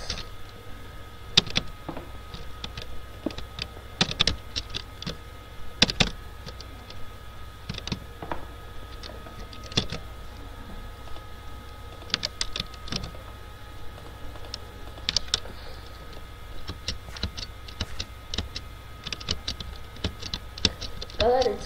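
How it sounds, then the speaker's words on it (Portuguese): Computer keyboard clacking while playing Minecraft survival, a steady patter of small key ticks and sharp taps running throughout, moderately loud, with occasional talk over it. "desculpe aí se tá dando pra ouvir algum barulho assim do teclado"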